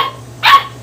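A puppy gives a single short, sharp bark close by, rising out of a quiet background with a steady low hum.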